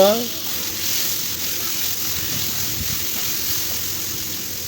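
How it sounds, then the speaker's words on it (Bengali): Whole spices drop into hot oil in a karahi and set off a loud, steady sizzle that crackles evenly throughout, with a voice briefly audible beneath it. "এই যে কড়া বসায় দিয়ে আমি তেল দিলাম, তেল দিয়ে এই যে এখন এই মশলাগুলো আমি দিয়ে দিব"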